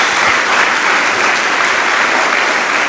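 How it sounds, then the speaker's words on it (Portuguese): Worshippers at a church service clap together in loud, sustained, continuous applause filling the room, with no break. "Dê uma salva de palmas a Jesus."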